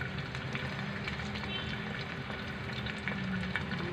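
Butter melts and sizzles in a pan beneath an egg and cheese sandwich, a steady close frying hiss that runs throughout with no talking.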